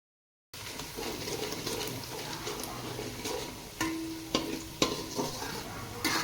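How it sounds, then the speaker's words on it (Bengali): Sliced onions for beresta frying in oil on a high flame and being stirred, a steady sizzle broken near the end by several sharp scraping clacks of the spoon against the pan. "হাই ফ্লেমে এক নাগাড়ে ঘোরাতে ঘোরাতেই বেরেস্তাগুলো বাদামি কালার হয়ে গেল।"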